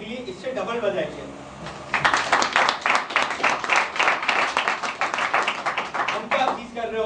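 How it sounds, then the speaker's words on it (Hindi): An audience bursts into rapid, dense clapping after a few seconds of talk, the applause loud and sustained for several seconds before fading as a voice returns. "ये तालियां मेरी लिए, दानिश भाई के लिए, इससे डबल बजाइए।"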